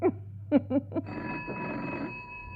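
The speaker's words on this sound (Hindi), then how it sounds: "लगता है संजीदा का फोन है।" A telephone rings in a quiet room, its electronic bell sounding in a few short bursts before a steady tone lingers, loud and close, with no one talking.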